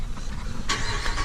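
An 841hp Corvette with duck calls fitted in its exhaust cranks and fires up, a brief low rumble jumping into a loud, bright roar near the mic.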